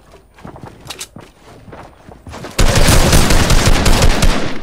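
Video game gunfire in Fortnite: scattered soft footsteps and taps, then a sudden loud burst of sustained rapid automatic fire that continues to the end, close and dense.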